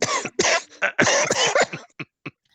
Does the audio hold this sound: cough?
yes